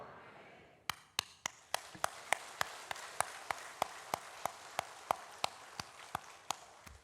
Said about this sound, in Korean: 설교 시간에 박수 쳤다고 흠잡지 마세요